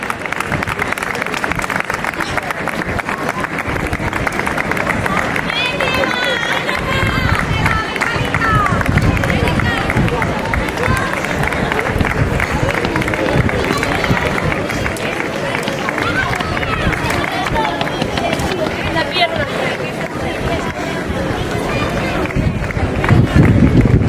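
Spectators at the Avilés urban mile road race, during the girls' youth (Infantil F) category, applaud arriving runners with steady, dense clapping and crowd noise that runs throughout, mixed with an announcer talking over a loudspeaker.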